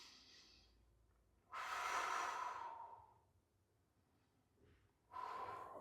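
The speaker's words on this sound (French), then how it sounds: "j'inspire" A person breathing in deeply during a cycling mobility stretching routine, with two strong, airy breath sounds close to the mic separated by a quiet pause.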